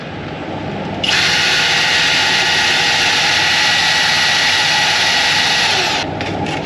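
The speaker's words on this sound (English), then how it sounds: "You have to drill out your rivets." A loud, steady high-pitched drill whine drilling out tail light rivets on a Freightliner Coronado truck runs continuously for about five seconds over a background rumble, then cuts off.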